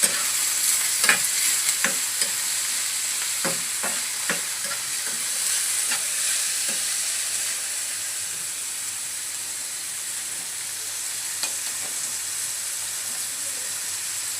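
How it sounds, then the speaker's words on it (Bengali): Vegetables with green chilli, salt and turmeric fry in a pan for sabudana pulao, a steady close sizzle with scattered clinks and scrapes of stirring and no talking. "সবজিগুলো সুন্দর করে ভেজে নেব"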